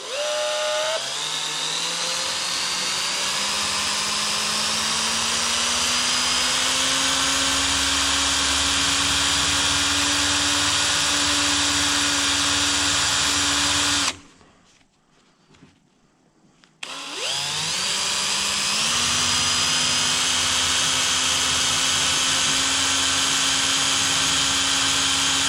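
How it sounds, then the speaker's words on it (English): A power drill whirs steadily at close range while disassembling LS 5.3 truck cylinder heads, pausing briefly partway through before spinning up again and running on. "I'm just going to run my drill."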